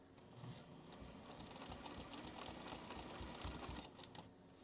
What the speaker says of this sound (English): So I'll just stitch forward a couple stitches and then back, and then I'll be ready to quilt.